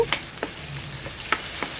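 Hot oil sizzles and crackles softly as mustard seeds, cumin and chana dal fry, with a few sharp scraping stirs of a utensil against the pan.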